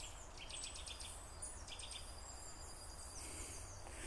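Birds chirp in a forest in daylight, short high tweets repeating in bursts over a steady bed of insect or cricket buzz, faint and distant.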